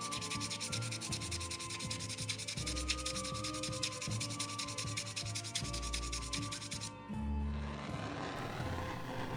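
A steel butter knife blade is sanded bare after quenching: close, continuous rasping strokes in a steady back-and-forth rhythm, then a short pause and a change of pass near the end.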